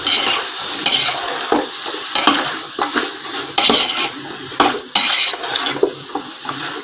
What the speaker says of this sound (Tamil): இப்போது மஷ்ரூமை ஆட் பண்ணிக்கிறோம். ஆட் பண்ணிவிட்டு நல்லா கலந்து விட்டுடணும்.